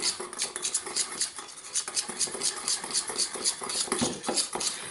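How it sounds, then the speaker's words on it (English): A whisk beats thick au jus sauce paste into cream in a bowl, making quick, steady, rhythmic clicking and scraping strokes close up, with no talk. "So I'm mixing it up with a little bit of the cream first."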